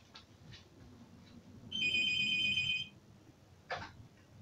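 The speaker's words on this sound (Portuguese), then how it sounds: "Gente, o celular tá tocando" A mobile phone ringtone plays indoors as a steady electronic tone lasting about a second, standing out clearly over quiet room noise, with a short clatter following afterward.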